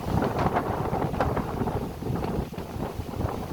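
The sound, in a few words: strong wind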